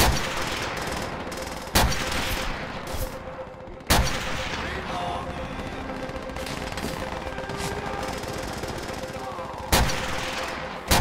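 Gunfire in Call of Duty: World at War, with sharp single shots cracking out at intervals over a dense, continuous background of battle noise and distant firing.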